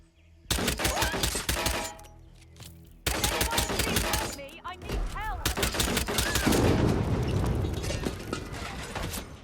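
Rapid bursts of gunfire from the stealth action game Hitman 3, loud dense volleys with sharp impacts and mechanical clatter, pausing briefly before resuming, with game sounds underneath.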